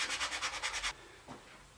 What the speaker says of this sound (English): some hand sanding will round off this top